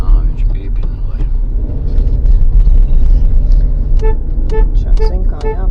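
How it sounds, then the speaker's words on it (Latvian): A car horn toots several short times in busy road traffic in Italy, sharp bursts near the end over a low rumbling engine, with people talking inside the vehicle. "Viņš pīpina, lai."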